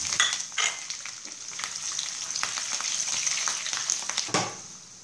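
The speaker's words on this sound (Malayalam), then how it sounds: "ഈ പച്ചമുളകും കുറച്ചധികം കറിവേപ്പിലയും നമുക്ക് സെപ്പറേറ്റ് ആയിട്ട് ഒന്ന് വറുത്തെടുക്കാം." Green chillies fry in hot oil for beef chilli, giving a steady, close sizzle with a few sharp crackles and utensil stirring sounds throughout.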